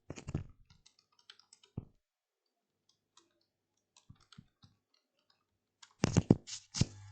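Python code being typed on a computer keyboard, sparse single key clicks with long pauses, then a quick cluster of louder keystrokes near the end, close and clear in a quiet room.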